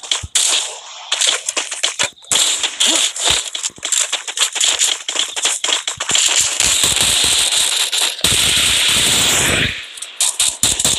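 Shotgun blasts in an online video game, loud sharp bangs in quick irregular succession with crackling bursts, one longer roaring stretch near the end.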